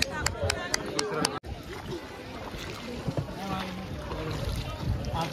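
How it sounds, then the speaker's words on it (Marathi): Boat ride on a lake at Mahabaleshwar, with water rushing and wind buffeting the microphone throughout, a sharp clack early on, and people chattering faintly under the noise. "चाललो होतो आम्ही बोटिंग करायला."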